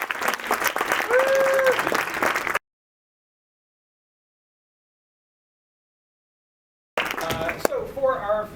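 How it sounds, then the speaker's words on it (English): An improv show audience claps and cheers in a loud, dense burst, cuts to silence for about four seconds, then breaks into applause again near the end. "So let's get one more round of applause as they take their seats,"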